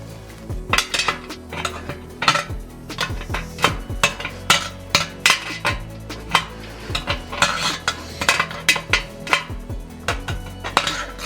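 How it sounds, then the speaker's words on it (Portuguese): Stainless steel Guarany sprayer parts are screwed together, producing a dense run of close metallic clinks, taps and scraping turns in an irregular rhythm, loud and without speech. "Levantar esse parafuso aqui e rosquear ele."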